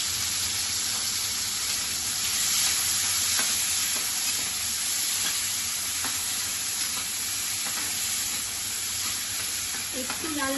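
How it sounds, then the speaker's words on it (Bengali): Two small chopped onions fry in oil in a pan, a steady close sizzle with stirring scrapes throughout and faint voice traces over it. "তেলের মধ্যে এই যে পেঁয়াজগুলো, দুটো ছোট ছোট পেঁয়াজ আমি কুচিয়ে নিয়েছি, এগুলো ভাজতে দিয়ে দেবো"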